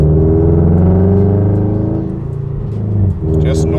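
A 2022 Subaru BRZ fitted with a Sprint Booster, its engine droning steadily from inside the cabin while driving, a strong low hum that dips briefly and then builds again.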